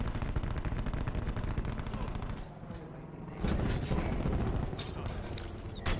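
The Scythe minigun from the video game Call of Duty Black Ops 4 fires in a rapid, continuous stream of shots, loud and dense, easing briefly midway before a heavier burst resumes, with other battle noise around it.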